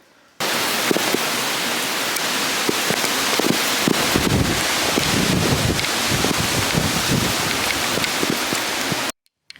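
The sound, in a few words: hurricane wind gusts at night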